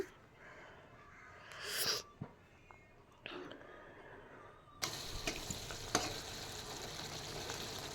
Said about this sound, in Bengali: লোটে মাছটা ভালো করে একটু মিক্স করে নিচ্ছি